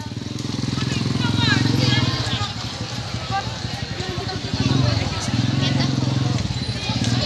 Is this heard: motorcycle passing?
yes